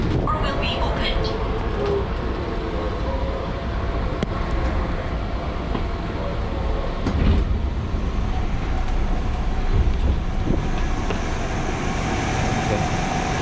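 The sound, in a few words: commuter train at Manggarai station, Jakarta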